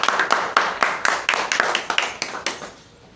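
A small audience at a party workers' meeting claps in welcome, a quick string of sharp, close handclaps that thins out and fades away.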